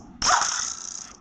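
A dog in the Minecraft video game gives a single sudden bark-like sound that rings briefly, then trails off, heard alone.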